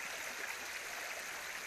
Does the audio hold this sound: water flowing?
yes